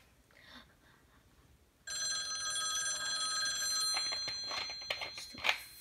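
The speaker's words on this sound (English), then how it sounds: "Phone." A telephone bell rings loudly and continuously, a bright metallic trill that starts suddenly after a quiet stretch and keeps going, with some clatter and bumps toward the end.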